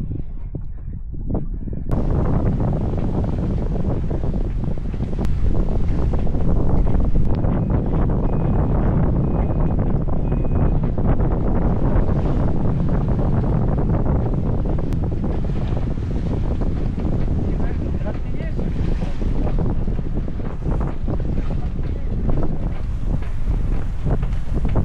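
Strong wind gusting at 17 to 19 knots roars steadily across the microphone aboard a sailboat heading upwind, a dense rushing blast with buffeting thumps and the wash of water beneath it, no voices.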